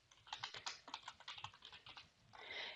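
Fast, quiet typing on a computer keyboard, a close run of crisp key clicks in quick succession, followed by a soft rustle at the end.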